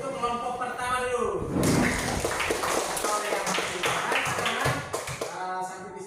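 Classroom applause for the first group of sixth-grade students, steady overlapping claps filling the room for several seconds, close and fairly loud, with voices mixed in.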